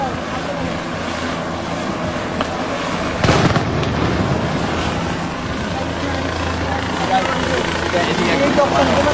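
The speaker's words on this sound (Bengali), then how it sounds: "হেলিকপ্টার দিয়ে মারতেছে দেখছেন" A single sharp blast, reported as gunfire from a helicopter, cracks out once amid a constant noisy outdoor din, loud and close against the rumbling background.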